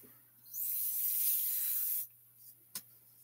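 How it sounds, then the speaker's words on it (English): A small spray bottle of alcohol ink blending solution gives one long hissing spray of about a second and a half, close and fairly faint, followed by a brief tick. "if I need more blending solution, somewhere I have a little spray bottle"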